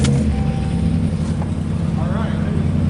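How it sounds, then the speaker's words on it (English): A Ram pickup truck's engine idling close by, a loud, steady low rumble that holds for three seconds while a person talks briefly over it. "Well, the Ram's running."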